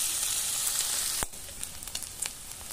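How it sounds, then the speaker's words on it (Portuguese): Bacon sizzles and fries in a pan for collard greens, loud and steady at first, then the hiss drops after a sharp scrape, leaving quieter crackling and a few taps. "O bacon já está prontinho, fritinho."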